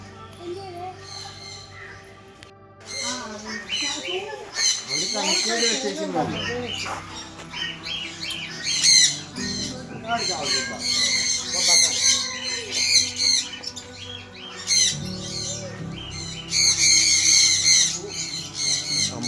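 Caged parrots, including grey parrots and macaws, let out harsh, repeated squawks and screeches at fairly close range, with people talking throughout.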